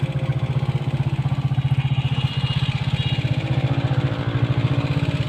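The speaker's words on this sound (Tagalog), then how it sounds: "Umandar pa yung motor ko mga boss." A heavily loaded motorcycle's engine runs close by with a fast, even, low-pitched putter and steady mechanical clatter, alone with no talk.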